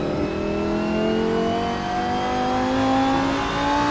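A Lamborghini engine drones loud and steady while racing at Laguna Seca in the Assetto Corsa game, its pitch climbing smoothly under continuous acceleration with no speech.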